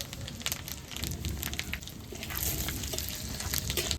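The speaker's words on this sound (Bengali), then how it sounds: "তেল দিয়ে দেবো জিরে ফোড়নে দেবো জিরে আর তেজপাতা" Cumin seeds and bay leaf sizzling in hot oil, a close crackling spatter with irregular sharp pops over a steady frying hiss.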